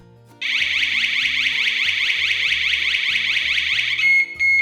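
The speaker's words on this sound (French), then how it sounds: "déclenche la sirène à tout moment" A loud electronic home alarm siren with a rapid pulsing warble that sounds continuously for several seconds, then cuts off into a few short beeps.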